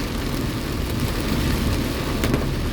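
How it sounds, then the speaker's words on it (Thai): Heavy rain pours down near Udon Thani, Thailand, as a dense, steady hiss and roar with no voices. "บรรยากาศฝนตกนะครับ ตอนนี้ไม่ปล่อยแล้วแหละ ตอนนี้ตกหนักเลยแหละ"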